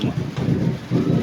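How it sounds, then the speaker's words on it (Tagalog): Heavy rain pours steadily outside a house, with low rolling thunder rumbling underneath in a close, continuous wash. "kasi lakas talaga ng ulan"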